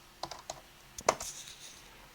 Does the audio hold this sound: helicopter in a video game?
no